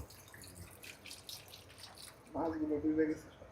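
Water poured from a container into a pot of hasra fish for cooking, a brief gushing splash rising after a quiet start and lasting about a second, close by, with faint voices in the background.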